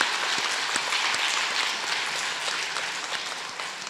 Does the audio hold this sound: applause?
yes